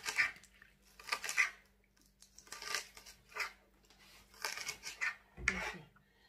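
A knife cuts through vegetables, tomatoes among them, on a board in a home kitchen, making scattered soft chopping and scraping bursts with quiet pauses in between.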